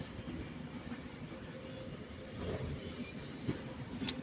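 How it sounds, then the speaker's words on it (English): An Avanti West Coast Pendolino train pulls into Manchester Piccadilly with a faint, steady rumble of wheels on rail, a thin high wheel squeal coming in late, and no voices. "Oh, we got another Avanti coming in. Another Pendolino."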